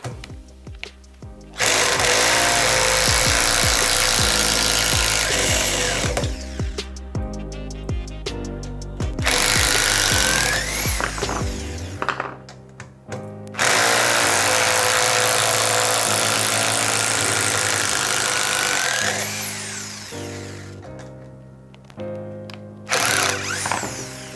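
A Vitals Professional WI 1423il corded electric impact driver unscrews fasteners in loud, sustained bursts of rapid hammering and motor whine. Short pauses separate the runs, and the pitch rises as each screw comes free.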